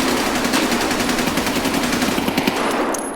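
Sustained automatic gunfire in Escape from Tarkov, a loud, dense, continuous stream of shots that tapers slightly at the end.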